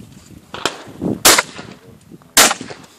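Shotgun shots ring out in two sharp, loud blasts about a second apart, with a smaller crack just before them, set against a low, noisy outdoor background.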